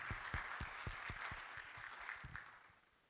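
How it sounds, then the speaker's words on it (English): Audience applause at a finance forum for a bank rated transformational, dense clapping with a steady patter that slowly fades toward the end, heard alone without talk. "Can we get a big round of applause for Enat Bank"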